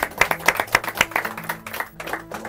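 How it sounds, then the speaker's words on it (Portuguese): A small group claps for their teachers, a quick run of close, fairly loud hand claps that thins out and fades after a couple of seconds. "Eu gostaria de pedir uma salva de palmas para os nossos professores,"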